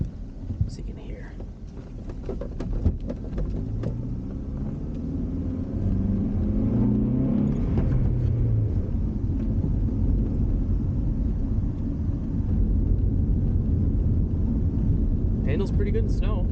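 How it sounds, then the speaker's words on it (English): Cabin ride noise inside a 2004 Honda CR-V with a manual transmission, a steady low road and engine rumble that grows slightly louder midway, with faint ticks and a brief voice near the end. "I'll be quiet for a while and see how you like the ride."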